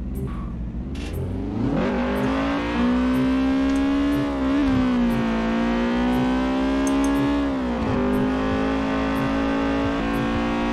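A racing car engine in Forza Horizon 4 drones and climbs in pitch through gear changes, a continuous loud whine heard from inside the car.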